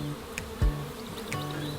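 Bees buzzing around a homemade feeder made from a Tupperware lid, a faint steady insect drone with a couple of brief low knocks or handling bumps, no talking.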